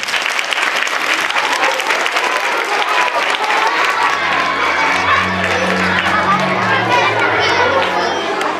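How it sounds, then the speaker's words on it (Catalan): Applause from an audience at a school theatre performance of the Sant Jordi legend, dense and continuous clapping throughout, joined partway by a low voice speaking over it. "Els fem un fort aplaudiment?"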